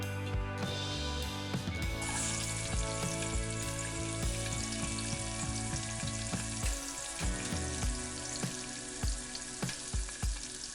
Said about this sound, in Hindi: हमें गैस की फ्लेम हाई कर लेनी है और पकोड़े फ्राई करने के लिए डाल देना है